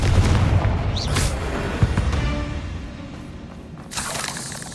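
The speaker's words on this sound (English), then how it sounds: "Confringo!" Confringo fire blast spell from Hogwarts Legacy exploding in a deep boom with shattering debris, followed by a second crackling burst, loud and heavy amid game combat.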